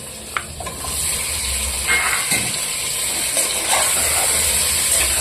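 Mutton goes into hot oil with a loud, close, continuous sizzle and hiss, broken by a few stirring scrapes and clinks.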